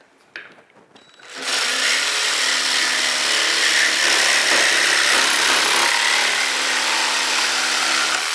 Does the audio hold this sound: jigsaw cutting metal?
yes